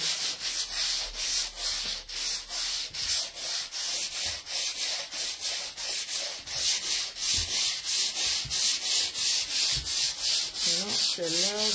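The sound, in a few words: sanding a filled wall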